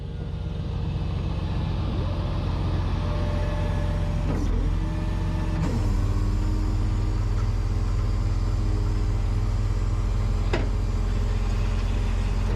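A truck creeps slowly forward on wheel chocks, winching a flatbed buried sideways in a field. A steady low engine rumble holds throughout, with a rising, sustained mechanical whine partway through and a few sharp knocks.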